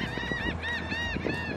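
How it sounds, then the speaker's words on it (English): A flock of black skimmers calling outdoors at a pond, with repeated nasal, honking yelps overlapping in quick succession, loud and close. "These are all black skimmers."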